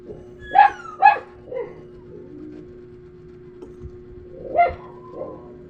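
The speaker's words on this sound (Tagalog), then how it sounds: "Ingay ng mga aso ko." Dogs bark in a few sharp bursts, two quick barks then a lone one later, with quieter yips between and a faint steady hum underneath.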